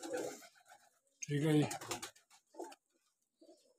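Pigeons in a breeder setup coo in low soft bursts, close by, mixed with someone speaking briefly in between.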